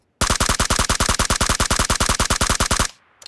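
Automatic gunfire in a battle royale video game: one long, loud burst of about thirty rapid, evenly spaced shots that stops abruptly and leaves a faint tail.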